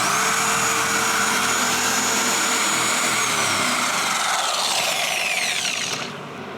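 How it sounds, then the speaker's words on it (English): A polishing machine fitted with a Lake Country pad whirs loudly and steadily across the engine cover of a 1990 Lamborghini Countach, a continuous high whine that shifts pitch near the end and then eases off. "I'm going to start polishing here on the engine cover"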